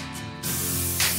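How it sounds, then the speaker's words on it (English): A paint spray gun hisses in a steady, loud burst of air and paint while painting a car's engine bay, with a brief surge in intensity near the end. "I was getting more and more confident with the spray gun"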